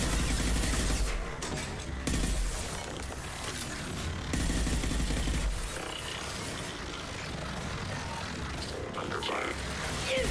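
Continuous dense gunfire from the video game Mass Effect 2, rapid overlapping shots and impacts filling the whole stretch with a loud, busy texture, with voices calling out amid the combat.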